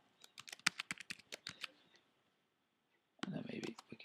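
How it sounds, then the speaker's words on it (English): Quick bursts of key clicks as a password is typed on a computer keyboard, a rapid uneven run of taps, a short pause, then another dense flurry of typing, close and fairly quiet. "So let me just type my password"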